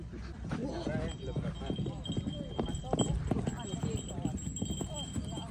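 Horse hooves clip-clop at a walking pace on a mountain trail near a volcano, a steady run of close hoof strikes under voices talking nearby.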